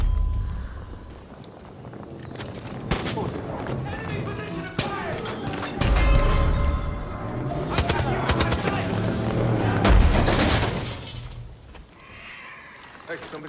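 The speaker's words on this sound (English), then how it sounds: "Shoot down those vultures." Video game gunshots aimed at vultures circling near a barn, a mix of loud single shots and rapid bursts with thuds and movement sounds, under occasional talking.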